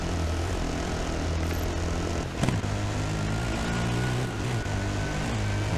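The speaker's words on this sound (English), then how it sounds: "Might follow that helicopter." Helicopter in the Dakar Desert Rally video game, a steady droning rotor and engine hum held loud and continuous throughout, blended with the rumble of a quad bike climbing desert dunes.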